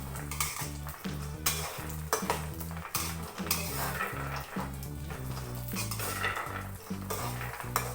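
Peanuts fry in a little oil while a utensil stirs them, giving a continuous sizzle broken by regular scraping and clinking strokes against the pan, close and prominent, with music playing underneath and no talking.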